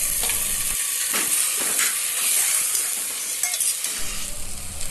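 Washed rice and lentils go into a hot frying pan with tomato for khichuri, a loud sizzling hiss broken by several short scraping, stirring bursts, with no one talking.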